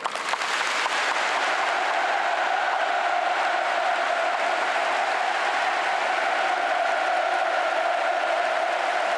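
Sustained audience applause fills a large hall in Pyongyang after a South Korean president praises Kim Jong Un in a speech, a steady dense wash of many hands clapping at even loudness throughout.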